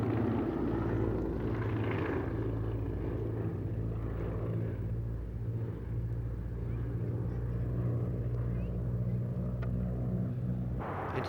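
A formation team of North American Harvard aircraft passes overhead with a steady, loud droning rumble of radial engines and propellers, sustained throughout without voices.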